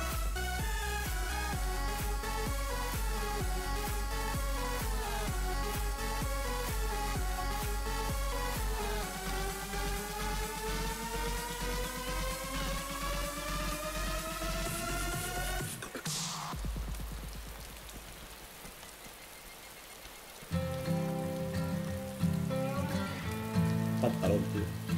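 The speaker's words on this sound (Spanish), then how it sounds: "No veas cómo llueve, tío." Rain pours in the survival game DayZ, a dense, steady hiss over droning background tones that drops away briefly partway through and then returns heavily.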